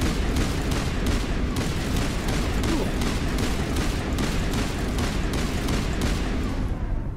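Weapon fire from the video game Mass Effect 1 Legendary Edition rattles out in a rapid, steady stream of loud, close shots lasting the whole stretch, with no pauses.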